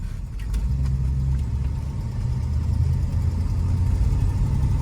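A 1965 Buick Riviera on the move gives a steady, close engine drone with low rumble and mild rises in revs, continuous and alone throughout.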